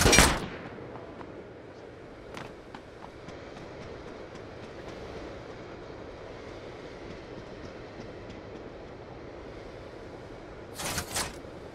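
Sniper rifle shots crack in Ring of Elysium: a loud report at the start, a fainter distant one soon after, then a close pair near the end over a steady low rumble.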